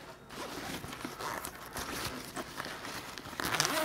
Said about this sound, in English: So zip it about halfway